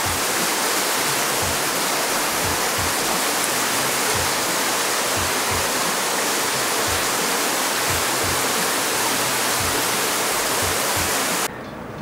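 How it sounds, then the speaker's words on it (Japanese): A waterfall on Hachijo Island roars steadily and loudly throughout, a dense unbroken rush of falling water with no voices. "で、目の前はこんなに滝の音がすごいいい感じ。"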